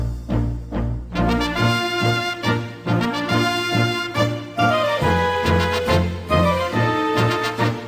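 Uruguay's national anthem played by a full orchestra, with loud rhythmic brass and strings swelling in a stately march, rich and continuous without any talking.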